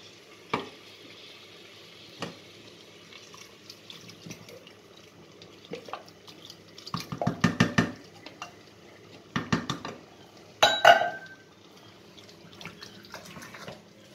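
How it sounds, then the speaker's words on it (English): Coconut milk goes into a pan of Thai massaman curry, bringing a few loud bursts of splashing and sizzling, scattered clinks of the pan, and a quiet background between them. "So now I'm going to put in the coconut milk, because that's going to be the cooking liquor."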